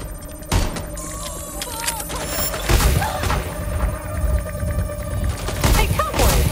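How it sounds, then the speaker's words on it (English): Fireworks going off in the Watch Dogs Legion video game, a dense run of bangs and crackling bursts over a busy game soundscape, loud and close with several sharp peaks. "The point of the fireworks is to draw their attention."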